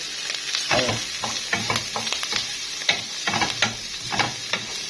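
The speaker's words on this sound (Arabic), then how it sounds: "هنسوي الكلاوي الاول قبل الكبده." Kidneys frying in a pan with little fat for Egyptian-style liver and kidneys, a constant close sizzle broken by repeated scraping stirs and clatters.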